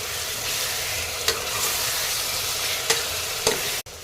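Tomatoes sautéing with coriander paste in a pan make a loud, steady frying sizzle close up, with a few light spatula scrapes and a brief sharp clatter near the end; no speech.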